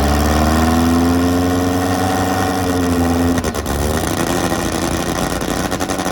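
A motorcycle engine idles with a steady low drone, then shifts to a rougher, pulsing rumble partway through, running continuously and close.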